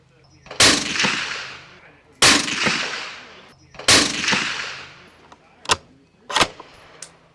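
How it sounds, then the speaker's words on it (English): Rifle gunshots fired at a target while shooting a three-shot group from a hunting tripod: three loud, sharp blasts a couple of seconds apart, each with a long rolling echo, followed by a few smaller sharp cracks. "Let's continue our 3-shot group up high."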